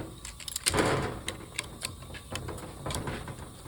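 A valve spring compressor is set up on a Ford 302 V8 cylinder head, giving scattered light metallic clicks, taps and clacks close by, with no talking.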